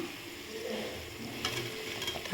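Onions and tomatoes sauté in a pan for beef curry, a close, steady sizzle with soft scraping stirs running through it, and no voice.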